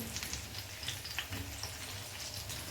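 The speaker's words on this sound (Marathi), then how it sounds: "अशा पद्धतीनं दोन्ही साइडनं अशी खरपूस भाजून घ्यायची" Pumpkin slices pan-frying until crisp on both sides, a steady close sizzle and crackle with faint spattering pops throughout, quiet and even, no voices.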